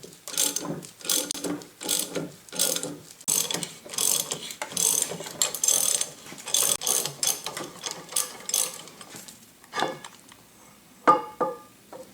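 A ratchet clicks in repeated bursts while removing the center bolt from a Yates American B244 wood planer's cutter head, crisp close ratcheting strokes with short pauses between, ending in a few sharper metallic clicks.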